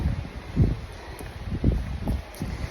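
Wind buffets the microphone in low, gusty rumbles, rising and falling in irregular bursts outdoors.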